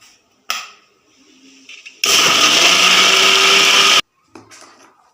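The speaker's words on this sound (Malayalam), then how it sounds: "നമുക്ക് ഒന്നും കൂടെ ഒന്ന് അടിച്ചെടുക്കാം" A kitchen blender whirs hard for about two seconds, blending banana with cold milk. The motor is loud and steady, with quieter handling clicks before and after it.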